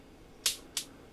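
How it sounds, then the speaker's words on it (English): Two short, bright hi-hat hits from a Korg Volca Drum synthesizer sound in quick succession, crisp and hissy, against a quiet background. "More of a hat sound"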